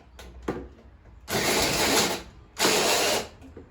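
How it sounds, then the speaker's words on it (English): Two bursts of a power drill whirring as it turns over a Tecumseh H35 mini bike engine, each about a second long, loud and close, with quiet mechanical clicks before them. "I'll turn it over with the drill and see what happens."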